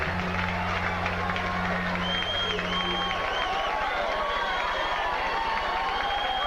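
Crowd noise swells through a boxing arena as George Foreman heads to the ring in Marshall on his comeback run, a broad steady roar of fans with mixed voices and a commentator talking over it.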